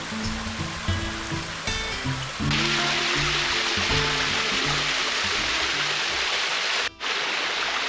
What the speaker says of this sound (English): Just the trickling streams, the sound of running water